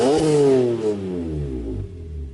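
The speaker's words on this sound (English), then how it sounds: "It has this very raw, visceral, metallic-y induction noise." A BMW E46 M3 with the S54 engine revs hard, giving a loud, raw, metallic induction howl. The pitch climbs sharply, then falls away in a long, steady descending note, with no voices.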